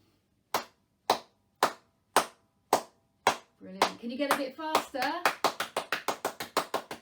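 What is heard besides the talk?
hands clapping together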